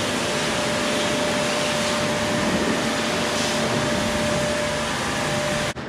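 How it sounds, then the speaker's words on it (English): A new power washer runs steadily on an Iowa farm, a loud, constant hissing spray with an engine drone that holds unbroken for several seconds before cutting off sharply at the end. "And Dad's running the new power washer."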